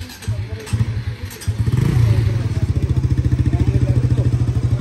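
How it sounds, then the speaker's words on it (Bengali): Motorcycles running at a Yamaha service centre in Uttara, one engine idling with a steady rapid putter that grows louder midway, with clatter and faint voices in the background. "এগুলো সব হচ্ছে বাইক হচ্ছে সার্ভিসের জন্য চলছে, কাজ চলতেছে সার্ভিসে।"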